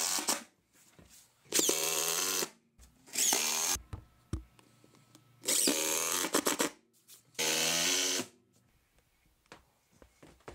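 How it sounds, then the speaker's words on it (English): A power drill drives 2-inch screws into the corners of a wood stove hearth on the floor of a mobile home, four loud whirring bursts of about a second each separated by short pauses. "I'm screwing all the corners down and make sure it's really secure to the floor. I'm using 2-inch screws for this."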